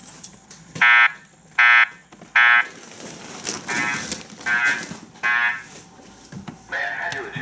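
A building fire alarm set off from a pull station sounds in loud, repeated buzzing horn blasts at a steady rhythm, interspersed with a reverberant recorded voice announcement in a large indoor space.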